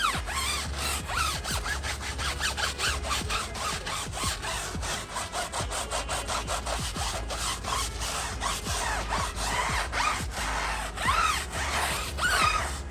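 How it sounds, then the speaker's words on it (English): A rag rubs back and forth over a tire on a WELD wheel in fast, rhythmic scrubbing strokes, close and continuous, with a scratchy back-and-forth sound much like DJ turntable scratching. "Like I'm scratching on the turntable."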